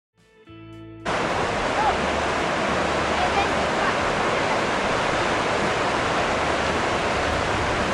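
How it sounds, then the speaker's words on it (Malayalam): A boiling river in Yellowstone National Park rushes with a loud, steady, broadband roar of flowing water that starts after about a second and continues unbroken to the end. "യെല്ലോസ്റ്റോൺ നാഷണൽ പാർക്കിൽ തിളയ്ക്കുന്ന ഒരു നദിയാണ് നിങ്ങൾ കാണുന്നത്"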